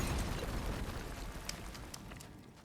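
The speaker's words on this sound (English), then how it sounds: "Attack fire pots can cause an explosion." A fire pot bursts in God of War Ragnarök with a deep, rumbling boom that starts loud and slowly decays over a couple of seconds, with a few faint crackles and pops trailing off afterward.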